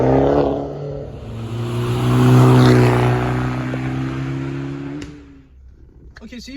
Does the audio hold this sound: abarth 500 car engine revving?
yes